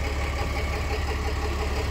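A 2006 Ford LCF ramp truck sits idling with its exhaust fitted, a steady, loud low rumble with an even mechanical churn and no voices over it.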